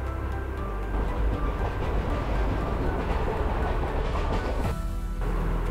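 A passenger train on a long overnight run along the Konkan coast toward Udupi rumbles steadily, with continuous wheel and carriage noise and a clickety-clack rhythm close by, loud and unbroken.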